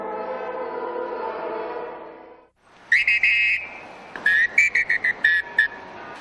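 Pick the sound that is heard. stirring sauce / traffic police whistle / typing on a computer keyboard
traffic police whistle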